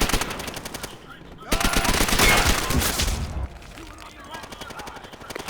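An MP40 submachine gun fires from the hip in Call of Duty: World at War: rapid bursts of automatic gunfire, with a louder sustained stretch in the middle, close and sharp.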